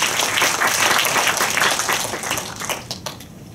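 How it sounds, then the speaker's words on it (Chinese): Audience applause greeting the founder of a design firm at a home-renovation lecture, a dense, steady wash of many hands clapping that thins slightly toward the end. "那我们掌声欢迎博成设计的创办人邱博文"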